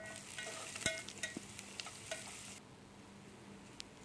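Onion frying in a pan, a soft sizzle broken by several sharp clicks and stirring knocks over the first half, then a quieter steady hiss with no speech.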